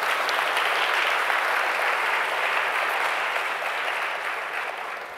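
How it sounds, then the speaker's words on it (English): An audience at a tech community awards keynote applauds the nominees, a broad, even wash of many hands clapping at once that holds steady and then eases off slightly toward the end. "So can you give a round of applause to all the nominees?"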